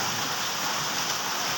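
Steady rain falls in a continuous, even hiss with no breaks, fairly close and moderately loud, and no voices over it.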